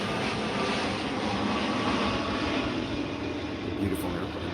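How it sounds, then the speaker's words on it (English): An airplane passes overhead with a steady, broad roar that holds at a constant level throughout, with no other distinct sounds. "beautiful airplane going overhead"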